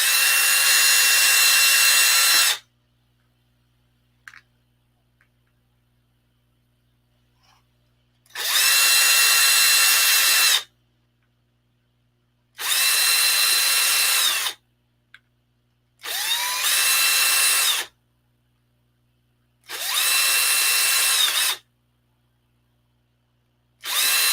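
A small power drill whirs loudly in repeated bursts of a few seconds each, separated by near-silent pauses, close by.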